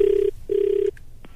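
A telephone ringback tone plays while calling a hospital: two loud, clean trill bursts separated by a short gap, followed by a faint click, with no speech.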